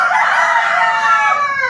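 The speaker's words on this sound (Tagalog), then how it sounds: "yung mga manok ko naririnig na naman yung boses ko. Tumitilaok na naman sila." A rooster crows loud and close in a single drawn-out call with no talking.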